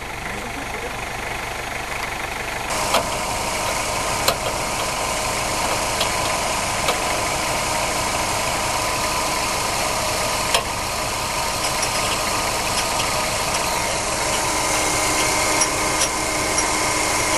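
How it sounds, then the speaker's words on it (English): A 4x4 Maruti Gypsy's engine runs steadily while towing out a stuck vehicle, a continuous loud mechanical drone with occasional knocks and clanks through the whole stretch. "We have another vehicle, 4x4 Gypsy, which will tow."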